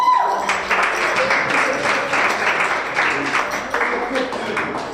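Audience applause and scattered cheering fill the room steadily, with voices talking over the clapping throughout.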